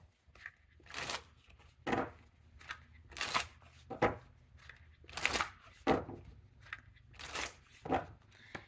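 Tarot cards shuffled and drawn by hand, giving a run of crisp, sharp riffling and slapping bursts at an irregular rhythm, close and fairly loud, with no talk over them.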